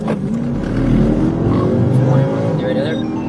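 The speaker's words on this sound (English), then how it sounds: "they accelerated and fled the scene" Suspects' car speeding off from a traffic stop as a state trooper steps out, engine revving up in a rising, steady roar nearby with some tire noise.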